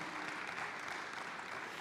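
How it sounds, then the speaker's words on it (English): A conference audience claps for a speaker coming to the stage, steady dense applause that sounds distant and fairly quiet throughout. "please give her a warm round of applause"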